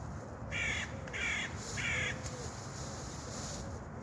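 Crows caw in a run of three loud, harsh calls while birds are fed outdoors, with steady background noise throughout and no talking.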